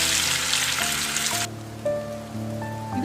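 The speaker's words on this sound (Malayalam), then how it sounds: "നല്ല പാലമീൻ കിട്ടിയിട്ടുണ്ടായിരുന്നു, അപ്പോൾ അത് പൊരിക്കാൻ വേണ്ടിയിട്ട് നമ്മൾ എടുത്തു വെച്ചിട്ടുണ്ട്." Pomfret fish frying in a pan for a Kerala meal: a loud, dense sizzle for about a second and a half that then cuts away, leaving only steady tonal music.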